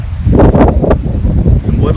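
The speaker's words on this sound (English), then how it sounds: "I mean, it's windy, especially coming off the lake" Gusty wind off a lake at a campsite buffets the microphone in loud low rumbles, with brief rustling bursts; a voice seems to murmur beneath the blustery noise.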